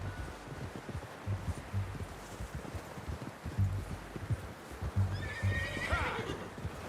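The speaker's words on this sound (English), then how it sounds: "How's that new horse?" A horse in the video game Red Dead Redemption 2 plods along with steady, close clip-clop hoofbeats over rustling ground noise, then gives a loud whinny near the end.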